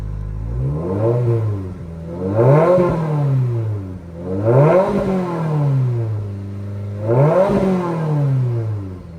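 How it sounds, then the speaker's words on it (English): A Subaru WRX VB fitted with an AWE Touring cat-back exhaust, running on E30, revs four times in a steady rhythm, each rise swelling to a loud, smooth drone before falling back to idle, close by with no talk. "this is going to be Revs"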